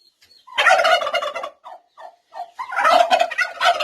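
Up close, a turkey gobbles in two loud, rapid bursts, broken up by a few short clucks between them.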